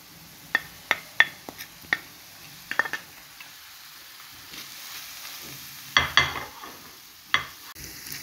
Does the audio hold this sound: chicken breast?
yes